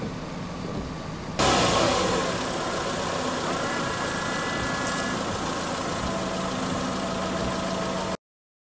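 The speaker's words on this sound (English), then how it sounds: "To wash the window, just pull the lever slightly towards you." A car's windscreen washer spraying with a sudden broadband hiss that starts abruptly and continues steadily, over a low idling engine; close and fairly loud throughout until it cuts off.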